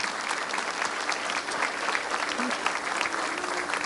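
A crowd at a high school graduation ceremony claps for parents in a full, sustained round of applause, even and continuous, with faint voices mixed beneath.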